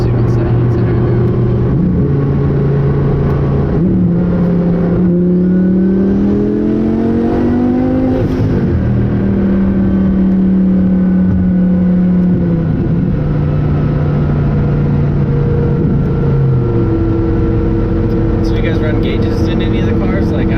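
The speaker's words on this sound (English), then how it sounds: "you hear the turbos sound like they're just like barely even doing anything" Turbocharged Audi R8 V10 engine running at idle and low revs, with a steady harmonic drone that rises and falls gently while people talk over it.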